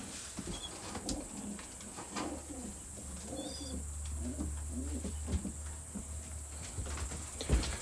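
Young pigeons coo softly in a loft, repeated low burbling calls at moderate distance, with a steady low hum underneath and a few faint pattering taps, no speech.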